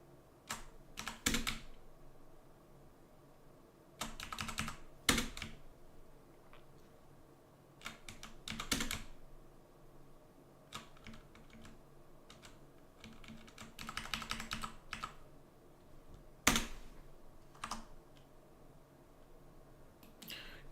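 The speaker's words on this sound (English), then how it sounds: "let's use arrows from the keyboard, it's easier" Computer keyboard arrow keys are pressed in scattered bursts of quick, close clicks with pauses between, heard alone in a quiet room.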